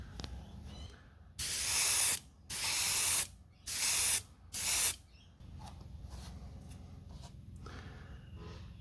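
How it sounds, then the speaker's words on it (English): Four short bursts of pearl white spray paint hissing from a can, each about half a second to a second long, separated by brief pauses in a quiet room. "the problem with pearl white is you can't see when you spray it"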